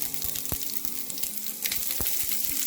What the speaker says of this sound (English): My oil is hot. To this I'm going to add the mustard seeds.